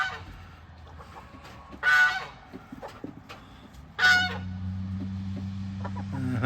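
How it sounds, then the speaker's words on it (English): A hen on a farm squawks and clucks after touching an electric fence, two loud sharp squawks several seconds apart, with quieter clucking and a steady low hum behind them. "I just heard a chicken get shocked, so that tells me that thing's working."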